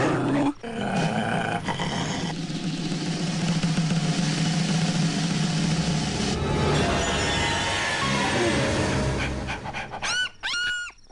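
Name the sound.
dog barking and panting in a comedy film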